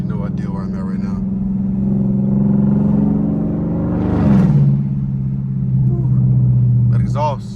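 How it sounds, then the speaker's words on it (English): Loud exhaust from a GT car with the muffler and resonator deleted and an X-pipe, droning steadily with a rising rev swell midway. Brief talk is audible at the start and end. "My car is super loud for what it is. It's just a muffler delete and a resonator delete."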